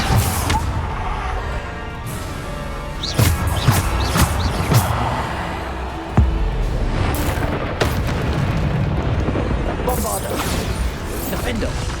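Spell blasts in the Hogwarts Legacy video game: repeated booming explosions and crashes during a duel, with a voice casting spells over loud continuous combat noise.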